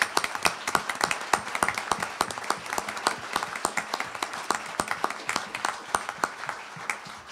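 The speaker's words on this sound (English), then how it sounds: "Let's give them a round of applause." Round of applause from an audience at a Colorado election review event, honoring former election candidates: many distinct, sharp hand claps in a lively, uneven rhythm, fairly close and clear, continuing for several seconds without speech.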